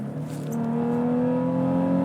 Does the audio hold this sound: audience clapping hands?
no